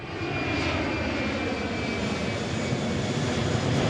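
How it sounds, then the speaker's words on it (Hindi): A B-29 bomber flies over a city, its aircraft engines giving a steady, continuous, dense roar that stays level and fairly loud throughout, with no talking. "लोगों ने देखा कि एक अमेरिका विमान B-29 शहर के ऊपर से गुजर रहा है"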